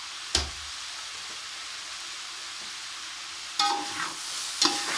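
Mooli paratha filling fries in a pan with a steady, even sizzle throughout, broken by a few brief scraping stir sounds near the start and toward the end.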